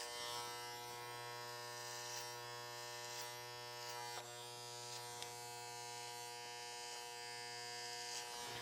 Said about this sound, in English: Then I'm going to close the clipper halfway down